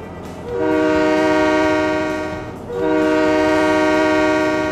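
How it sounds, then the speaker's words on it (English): A loud train horn in the railway game Train Mechanic Simulator 2017 blares in two long, sustained blasts close by, the first fading briefly before the second sounds, with no talk. "Trains are coming."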